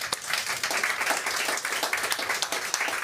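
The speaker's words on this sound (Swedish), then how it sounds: "Och vi ger dem en applåd." An audience at an industry preparedness event in Sweden gives a steady round of applause, dense clapping that carries evenly for about three seconds without talk.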